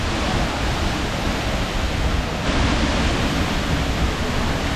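A waterfall in southern Iceland roars loud and close, a dense, unbroken rush of falling water that runs the whole time.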